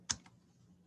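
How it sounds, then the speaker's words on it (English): A single sharp keypress, the enter key struck on a computer keyboard, close and crisp, followed by a faint trailing click and quiet room tone. "And hit enter."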